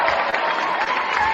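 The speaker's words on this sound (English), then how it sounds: "Give yourself another round of applause for sticking with us." Brief burst of crowd applause, dense clapping at steady loudness for a second or so, with no one speaking.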